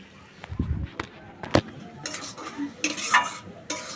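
Mango pieces frying and stirred in a pan, with intermittent scrapes and clinks of a utensil against the pan over a light sizzle, close by and uneven in rhythm.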